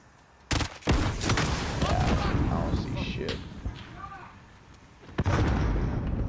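Cruise missile blast in Call of Duty: Modern Warfare: a loud booming impact bursts in suddenly, then a sustained rumbling roar with scattered debris crackle, and a second heavy hit lands near the end.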